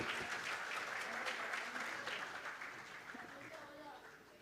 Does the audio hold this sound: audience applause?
yes